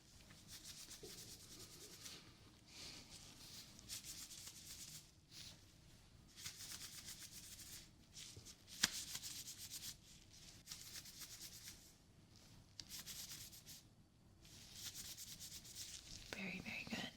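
Fingers rubbed together close beside the ear during a hearing test, soft dry rustling in short bursts separated by brief pauses, quiet and intimate with no talking.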